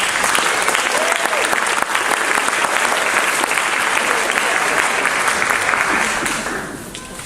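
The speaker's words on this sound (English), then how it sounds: "Please join me in giving them a round of applause for spearheading this effort." Audience applause at a gratitude talk for faculty advisors, a strong full wash of clapping from a large crowd that holds steady before fading out near the end.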